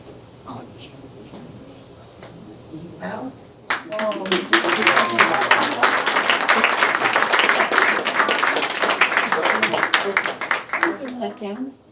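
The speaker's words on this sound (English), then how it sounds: "Let's give them a big round of applause" Applause at a public event, with speech from one person at first, then a sudden loud round of clapping from a crowd lasting about seven seconds before tapering off into talk.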